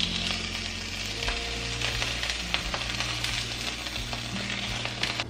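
Large aubergines frying in a crêpe pan: a steady, close sizzle and crackle of oil running throughout, with faint clinks and low hum beneath and no one speaking.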